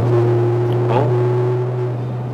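A BMW G30 540i with an aftermarket Tiner exhaust drives slowly in traffic, heard from inside the cabin as a steady, loud, low engine and exhaust drone that eases slightly toward the end.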